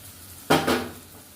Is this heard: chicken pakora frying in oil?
yes